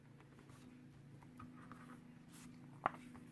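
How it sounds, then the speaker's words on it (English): A pencil scratches small marks on the inside of a paper planner insert, soft and faint, in a few light strokes against a quiet room. "I'm going to use a little pencil mark here on the inside"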